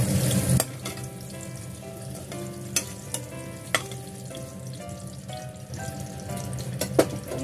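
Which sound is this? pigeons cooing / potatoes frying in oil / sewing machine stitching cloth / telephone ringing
potatoes frying in oil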